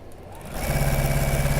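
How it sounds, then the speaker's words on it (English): Sewing machine stitching a 1/4 inch seam with reverse stitching at each end, starting up after a moment and running in a steady, close mechanical hum. "I'm going to sew them with a 1/4 inch seam"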